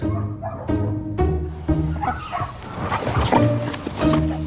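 Puppies at a vet clinic yap, yip and whimper in quick, high-pitched bursts close by, the barks arriving in a steady uneven stream for several seconds with no talking.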